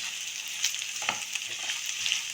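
Vegetables sautéing in a pan for kurma give a steady close sizzle, with a few light scrapes and taps from stirring across the short stretch and no voices.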